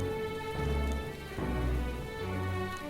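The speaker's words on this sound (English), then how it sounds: "Rain?" Steady rain falls in the fantasy RPG Metaphor: ReFantazio, a continuous even hiss with low rumbling swells, heard alone without talk.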